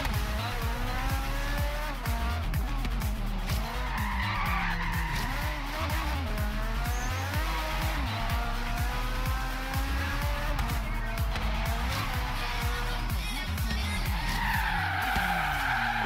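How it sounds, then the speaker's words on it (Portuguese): A car in Forza Horizon 3 brakes hard and skids through a circuit corner, tires squealing continuously over a loud, revving racing engine for the whole stretch, with no talking. "eu freiei em cima da marca, mas mesmo assim o carro deu aquela patinada"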